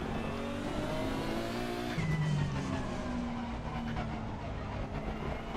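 A race car at a wet Silverstone in Assetto Corsa Competizione, its engine droning and shifting pitch as it accelerates through the gears, with tyre noise and light squeal underneath, loud and continuous.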